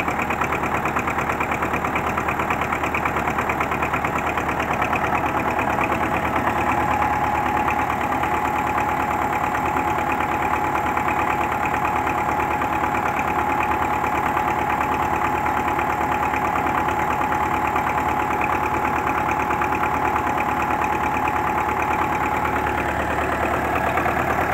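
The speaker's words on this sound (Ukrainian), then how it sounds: "Вже мотор не так стукотить, як то було." A cold D243 diesel tractor engine idles steadily after a fuel system repair, a loud, even rumble with a faint knock running without pause and no voices.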